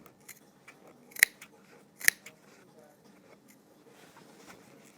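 Scissors snip through all layers of trouser fabric while sewing a single jet pocket, two sharp, crisp cuts standing out over a quiet background with faint rustling and soft handling noise.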